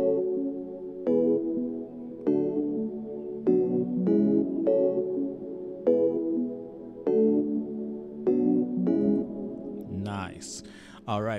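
Three synth instruments layered together in Logic Pro X for an Afrobeats beat: a full, rhythmic repeating chord-and-pluck pattern in steady bars, with a brief swishing effect near the end, no talk.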